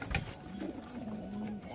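Low soft cooing of pigeons, a Giribaz breed kept at home, a faint drawn-out warble close by with a sharper rustle or flap at the start.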